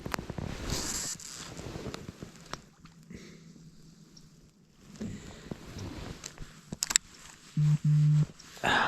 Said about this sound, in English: my phone just beeped